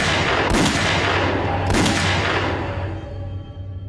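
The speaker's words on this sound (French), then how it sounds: "Brad est à terre lorsque Moore lui tire plusieurs balles à bout portant" Several loud gunshots fired at point-blank range in a crime reenactment, two sharp blasts close together with a long reverberant tail, no voices.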